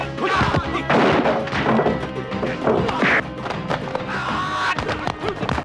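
Sharp cracks and heavy thuds from a film fight scene as a gun is fired, several loud impacts scattered over a busy, clattering soundtrack.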